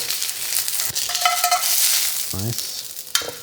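BBQ tofu sizzles steadily in a hot pan that holds leftover rub, a loud continuous frying hiss with a brief scrape as a piece is flipped.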